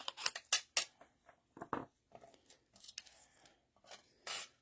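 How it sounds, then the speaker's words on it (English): Scissors trim a small die-cut paper piece for a stamped card project, giving a rapid run of sharp snips at the start and then scattered lighter cuts and paper rustles, close and moderately quiet with no talking. "I might have to trim this down a little bit so he'll fit through there."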